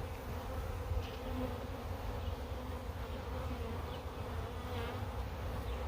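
Near a hive being filled with frames during swarm catching, a honey bee swarm hums steadily and quietly for several seconds as a low, even buzz. A few faint rustles sound beneath it, and no one speaks.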